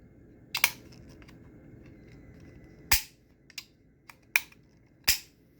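WASR-10 rifle safety selector, loosened, clicked several times: sharp, close metallic clicks spaced irregularly over a quiet background hum.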